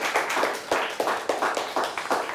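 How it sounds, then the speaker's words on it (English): A studio audience at a quiz show claps in a steady round of applause, with sharp, evenly spaced hand claps repeating close by and no talk over them. "Let's give them a nice round of applause."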